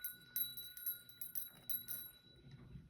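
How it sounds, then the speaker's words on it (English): A small handheld bell rings once during a pick-a-card tarot reading, its thin, steady tone hanging faintly over a low background hum with a few soft clinks. "I'm going to ring my bell."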